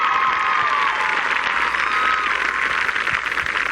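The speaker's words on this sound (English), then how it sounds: "Let's have a round of applause for the" Steady, dense applause from a large crowd at a 1993 college homecoming football game, continuous and loud throughout with a hint of cheering mixed in.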